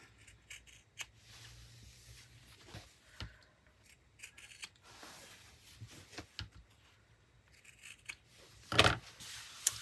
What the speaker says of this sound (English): now we're gonna just trim those corners to make them easier to turn